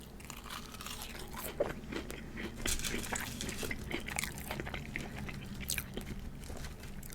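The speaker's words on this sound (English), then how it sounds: "They have like a very, very chip-like, you know, crunch to it." Crunchy, chip-like french fries being chewed up close, with steady crisp crunching and biting sounds that continue throughout, no talking.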